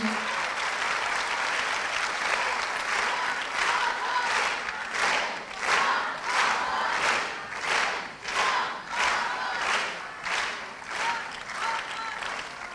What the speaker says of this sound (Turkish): Güçlü bir alkış olsun.